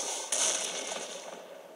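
A grenade goes off in S.T.A.L.K.E.R.: Shadow of Chernobyl: one sudden blast that rings out, then a decaying rumble and crackle.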